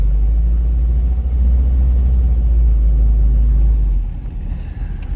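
Homemade car engine running while being driven, a loud deep low rumble holding steady for about four seconds before dropping to a lighter, rougher idle-like murmur near the end.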